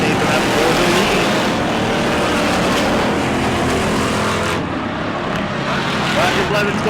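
Crown Victoria race cars roar around an oval track in a tight fight for the lead, a loud, steady engine drone with no letup.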